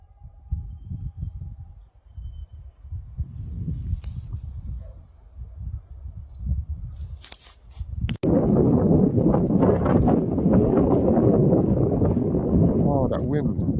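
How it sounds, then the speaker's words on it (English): Strong outdoor wind buffets the microphone in a sustained roar, loud and close, rising sharply partway through after quieter gusty rumbling. "Oh, that wind."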